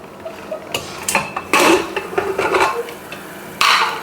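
A pressure cooker being opened after its pressure has released: a series of loud metallic clanks and scrapes of lid and weight, close by, with short pauses between.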